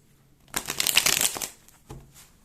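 Tarot cards are riffled in a quick, close, crackling burst lasting under a second, followed by a short soft tap, all over near silence.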